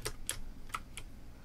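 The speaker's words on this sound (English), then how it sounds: "The clicking might be kind of annoying." Sharp computer keyboard and mouse clicks during a Minecraft LAN party session come in four distinct, close taps, irregularly spaced and crisp, with no talking.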